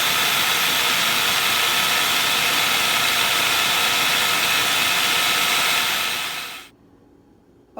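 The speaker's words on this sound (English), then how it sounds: "grinding them up in your food processor" A food processor grinds fresh almonds for almond butter cookies: a loud, steady whirring roar with no talk, running for several seconds before cutting off abruptly, leaving near silence.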